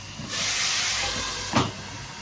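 Pork chop frying in hot oil, a steady loud sizzle with a sharp pop of splattering oil near the end.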